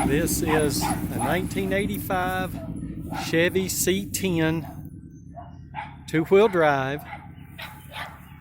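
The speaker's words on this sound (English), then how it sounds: "You can hear my dog barking at the motorcycle going by." A dog barks and yips at a passing motorcycle on a spring day, several sharp barks and whimpers in bursts, loud and close, heard under someone talking about an old pickup truck.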